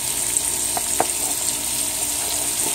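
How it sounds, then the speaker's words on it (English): Onions added to a hot pan for curried lobster and shrimp fry with a soft, steady sizzle, punctuated by a couple of brief clicks, moderately quiet and close. "I'm gonna add my onions"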